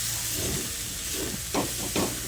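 Cabbage curry being stirred in a pan with garam masala and ghee, soft scraping strokes of a spoon over a low sizzle, a few distinct stirring sweeps near the end.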